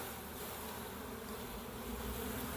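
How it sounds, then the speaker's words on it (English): Honey bees shaken from a swarm into a nuc box give off a dense, continuous buzzing hum, steady and close throughout with no pauses or voices. "And all these bees, most of the bees, fell right down in the bottom."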